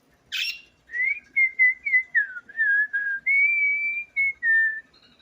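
A person whistles indoors near pet birds, a clear run of about a dozen short, sliding notes that rise and fall, each separate, close and alone, after one sharp chirp at the start.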